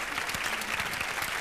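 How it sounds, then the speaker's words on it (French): Studio audience applauding on a French-language game show, a steady dense wash of many hands clapping throughout, close and even with no pauses. "Maintenant, arrêtez de t'applaudir."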